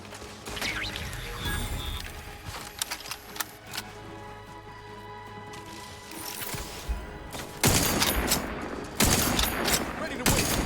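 Automated turrets firing in Outer Worlds 2, rapid clattering bursts and mechanical rattles, growing louder and denser toward the end, mixed with game sounds.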